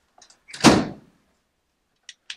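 A door at a key-code access hub in a disused secret facility bangs shut in one loud near thud, with small clicks before it and two faint metallic ticks afterward.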